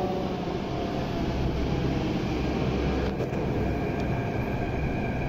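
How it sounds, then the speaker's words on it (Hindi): Delhi Metro train pulling into platform one at India Gate station, a steady loud low rumble and rolling hum filling the whole stretch with no voices. "लो भाई पहुंच चुकी है हमारी मेट्रो दिल्ली के इंडिया गेट के प्लेटफॉर्म नंबर एक पर।"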